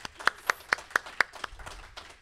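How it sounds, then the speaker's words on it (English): Audience clapping for a panel presentation at an academic comics and popular arts conference: a short burst of about seven sharp, separate claps at an even beat, fading into scattered softer claps, with no talk. "Can we give a round of applause for Camille for her wonderful presentation?"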